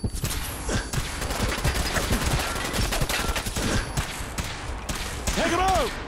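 Rapid bursts of gunfire crackle continuously during a firefight in the modded video game Fallout 4, with shouted voices over the shooting and a whistling tone near the end.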